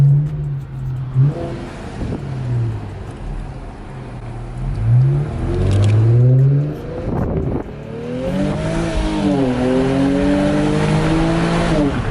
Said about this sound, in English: You can kind of hear the turbo a little more.